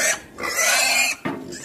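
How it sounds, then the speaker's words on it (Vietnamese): A large pig squeals loudly and insistently as it demands food, in two harsh, piercing bursts separated by a short gap, close to the listener. "Tại vì heo này nó bự rồi. Nó đòi ăn đó."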